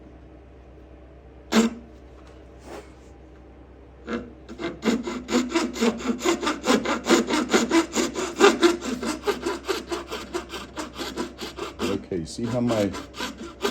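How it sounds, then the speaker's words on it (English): A gents saw cuts by hand into wood, with a few isolated scrapes first, then a steady run of quick, close rasping back-and-forth strokes; someone speaks briefly near the start. "this is called a gents saw, G-E-N-T-S, just like it sounds"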